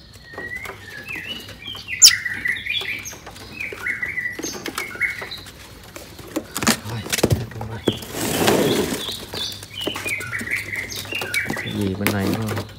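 Caged songbirds sing in bursts of repeated chirps and whistled notes, with some flapping and rustling. Someone talks at intervals close by.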